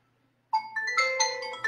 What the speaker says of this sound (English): See my phone ringing.